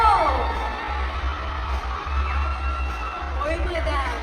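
At a Philippine mall show, a crowd screams and yells together in a shouting contest, with a loud, dense and sustained roar of mixed voices and whoops that swells and dips over a few seconds.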